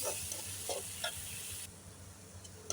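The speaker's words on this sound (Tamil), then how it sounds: "அரைச்சி வச்சுருந்த தக்காளியும் சேர்த்துக்கலாம் சேர்த்துட்டு இது வந்து நல்லா தக்காளியோட பச்சை வாசனை போய் எண்ணெய் பிரிஞ்சு வர அளவுக்கு நல்லா வதக்கிக்கலாம்" Ground tomato paste sautéing in oil in a pan for a carrot rice dish, a faint continuous sizzle with a few soft stirring scrapes, close but quiet, no voices.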